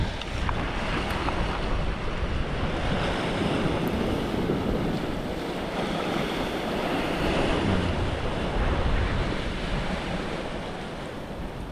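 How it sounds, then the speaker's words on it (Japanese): Rough winter sea surges and crashes against the rocky shore at a fishing spot in Fukui Prefecture, a loud continuous wash of surf mixed with wind noise and no talking. "外は海はすごく荒れてるんで、この近場でも割とうねりが入ってきて波がたまにバシャーンってきてちょっと怖いです"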